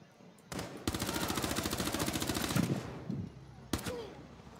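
Rapid automatic gunfire rattles out in a sustained burst during a close-quarters fight inside a club house in a tactical shooter, stopping briefly and ending with a single sharp shot, with faint voices underneath.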